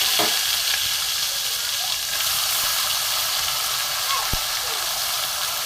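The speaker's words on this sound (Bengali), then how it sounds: "এবার আমি পেস্ট করা মশলাটা আমি দিয়ে দেবো।" Spice paste for an egg dopiyaza hits a hot pan and raises a loud, continuous sizzling hiss that holds steady throughout, with a couple of faint utensil knocks.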